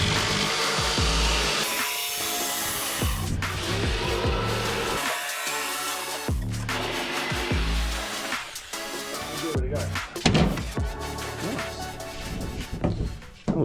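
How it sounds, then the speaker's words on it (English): Jigsaw cutting out a panel for the front deck of a small aluminium tinnie boat, a continuous loud buzzing cut running nearly throughout with brief pauses and shifts as the blade moves through the material. "got the jigsaw ready to cut it out"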